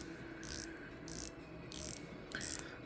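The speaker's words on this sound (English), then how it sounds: "The blue on it is an awesome pop of blue. .120 click bezel" A 120-click bezel on a blue pilot watch with an NH38 movement is turned in four short bursts of fine ratcheting clicks, close and fairly quiet, with pauses between them.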